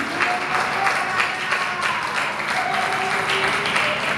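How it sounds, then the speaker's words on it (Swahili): A crowd claps continuously at a public gathering, a dense patter of many hands that holds steady from start to finish. "Tumpigie makofi mengi sana."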